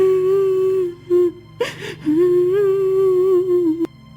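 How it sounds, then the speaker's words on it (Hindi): A princess crying in a Hindi storytelling tale, a sustained wavering whimpering wail with brief catches of breath, close and clear. "अरे ये रोने की आवाज किसकी है?"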